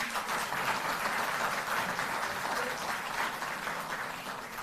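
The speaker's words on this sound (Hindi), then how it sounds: "तालियां बजती रहें।" Sustained applause from a crowd at a live political event, dense steady clapping filling the whole stretch at an even level with no talking.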